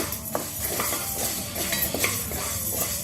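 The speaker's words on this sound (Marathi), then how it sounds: "शाबू भाजताना थोडी काळजी घ्यायची आहे, गॅस मिडियमच ठेवायचा आहे" Sago pearls (sabudana) are dry-roasted in a pan over medium heat, a spoon scraping and clinking steadily against the metal with a soft sizzling rattle of the grains.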